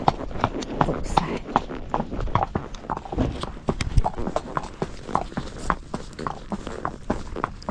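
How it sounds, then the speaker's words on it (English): Horses walk along in a steady clip-clop of hooves, a dense irregular run of close, sharp knocks from several animals going on throughout. "Maybe horses. Yeah, thought so."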